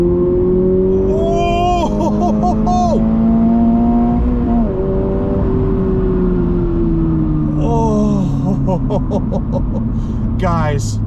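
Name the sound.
Toyota GR86 6-speed engine revving while accelerating after downshift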